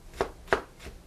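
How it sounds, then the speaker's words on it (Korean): A knife minces vegetables on a cutting board in three crisp, evenly spaced chops, close and alone. "이렇게 방향을 바꿔서 다져주시면 되겠습니다."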